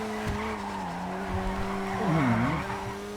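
Sentinel Classic car tires squealing and skidding in GTA V Online, a sustained tonal screech that bends downward mid-slide over steady engine and road noise, loud and close.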